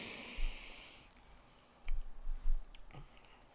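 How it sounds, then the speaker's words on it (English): Chewing food near the microphone, soft moist crunching and mouth sounds in a few short irregular bursts, quiet and close, with no talking. "I should finish chewing first before I say anything"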